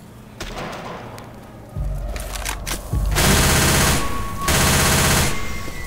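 A submachine gun fires in Left 4 Dead 2, its close, loud bursts coming in two sustained rattling volleys after some lighter clicks and thumps of handling.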